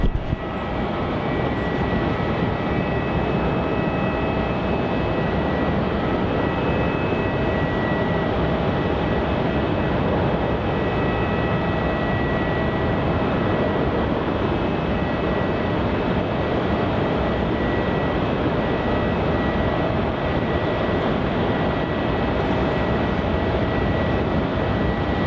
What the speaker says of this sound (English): We do have a takeoff here. JQ 504 heading off to Sydney is the A320-200.